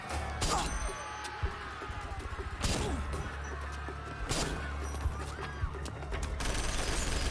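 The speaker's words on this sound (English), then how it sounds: "Those are gunshots, sir." Gunfire in the military strategy video game Act of War: Direct Action, several sharp distant shots and crashes spaced irregularly over a low rumbling background.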